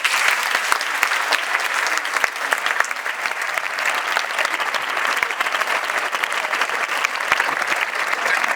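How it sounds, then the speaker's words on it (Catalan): Sustained applause from an audience at a music school's end-of-year festival, dense, even clapping filling the whole stretch with a faint crowd murmur underneath. "Un fort aplaudiment per als xiquets de la sensibilització i la seva professora Lluïsa Massó."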